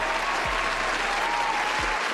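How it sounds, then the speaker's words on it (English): A studio audience gives a round of applause, a dense continuous wash of clapping that holds steady for a couple of seconds without any voices on top. "So let's give her a round of applause for that."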